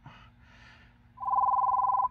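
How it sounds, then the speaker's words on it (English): A telephone ringing with a rapid electronic trill lasting close to a second, following a couple of softer tonal bursts, in a quiet indoor room during a golf club fitting session. "phone's ringing."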